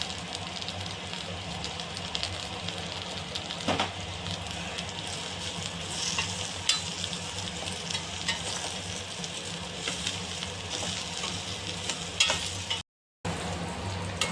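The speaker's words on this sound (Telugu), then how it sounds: "మనం అడుగు అనేది పట్టకుండా చెయ్యి వదలకుండా బాగా గరిటతో కలుపుతూ ఉండాలి" Bitter gourd pickle being stirred with a ladle in a pan over heat, a steady close sizzle and frying crackle with scraping stirs throughout, briefly cutting out near the end.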